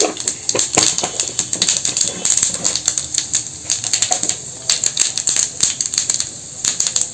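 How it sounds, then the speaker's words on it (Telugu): Tempering spices spluttering in hot oil in a kadai, a dense run of sharp popping and crackling bursts, close and lively throughout. "చిటపట్లాడుతున్నాయి కదా"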